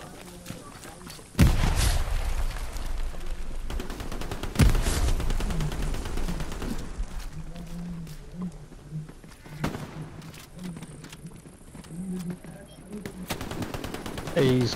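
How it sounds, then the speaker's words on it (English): Rapid gunfire bursts and sharp single shots from a Hell Let Loose battle, several loud close cracks mixed with a steady stream of more distant firing throughout. "Shots from somewhere."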